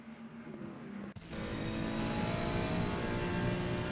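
Ferrari V6 race car engine in a sim racing game at the Red Bull Ring, a steady high-pitched whine under throttle, briefly cut by a short gearshift dip, then resuming louder and sustained with strong harmonic tone.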